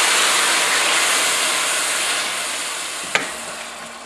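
Wine poured into a hot pan of risotto with onions and garlic, a loud steady hiss of sizzling and steam that fades slightly, with a brief clink near the end.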